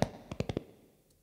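Four quick hollow thumps of hands striking a chest as body percussion, EQ'd and lightly overdriven, spaced close together in a short run, with a faint tap after.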